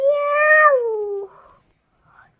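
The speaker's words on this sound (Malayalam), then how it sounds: "ക്യാറ്റ്" A domestic cat gives one loud, drawn-out meow that falls in pitch, followed by quiet and a faint soft rustle.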